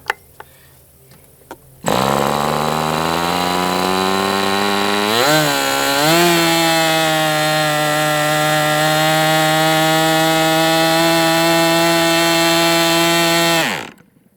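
A small MDS 68 FS Pro model engine being broken in starts up and runs loud and steady with a strong harmonic whine, briefly revving and dipping partway through before cutting off near the end.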